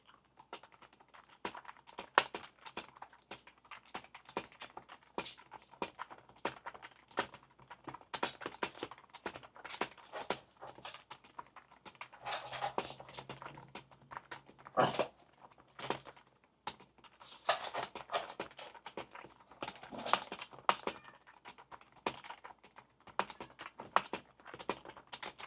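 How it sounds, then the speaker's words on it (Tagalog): Fingers type on a membrane computer keyboard, a Langtu L102 full-size model, in bursts of quiet, soft clicks with brief pauses. The keystrokes sound close and faint, with no talk over them. "Expected for a membrane keyboard, mas matigas lang ng onte kaysa sa typical."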